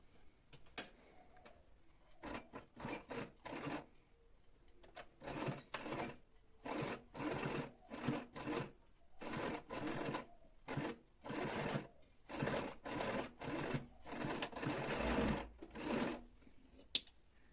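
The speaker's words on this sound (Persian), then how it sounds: "الان اینو میخوام دوخت نیش برم" Sewing machine stitching fabric for a buttonhole with facing and lining, a close rapid mechanical clatter running in repeated bursts with short stops between runs, no talking.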